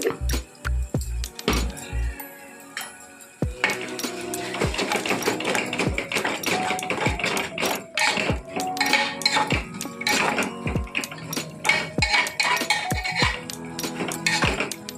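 Ginger being stirred into onions in a pan for tomato paneer curry, with sharp, repeated clinks and taps of a utensil against the pan over a soft background sizzle, close and irregular.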